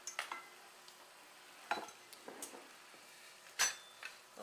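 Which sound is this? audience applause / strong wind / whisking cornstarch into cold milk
whisking cornstarch into cold milk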